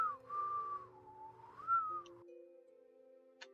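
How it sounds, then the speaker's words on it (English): A character in Morrowind whistling a short wavering tune, a clear solo melody that rises and dips for about two seconds before fading into a quiet held tone, faint and close. "And whistling."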